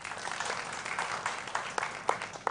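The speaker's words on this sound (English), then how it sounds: "A huge round of applause for them." Audience at a school quiz competition in Accra claps, a short burst of moderately loud, scattered applause with a few sharper individual claps near the end.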